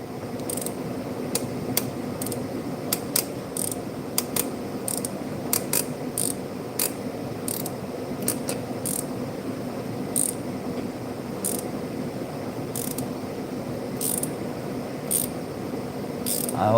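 Hand ratchet clicking in short, irregular bursts while loosening spark plugs from the cylinder head of a 2016 Chevrolet Equinox 2.4L engine with a misfire, close and fairly steady, with no voices.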